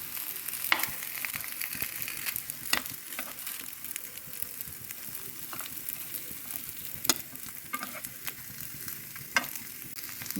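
Chicken chapati cooks in ghee on a pan with a constant crackling sizzle, punctuated by sharp scraping and turning clatters as it is flipped; no one speaks.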